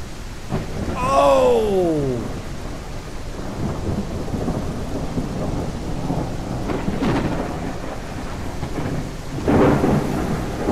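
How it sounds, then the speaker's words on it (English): Thunder rolls and rumbles through steady rain in a thunderstorm in the horror game Baisu, with a loud deep clap early, further distant rumbles later, and a brief spoken exclamation. "I think I'm going back in because it's raining outside"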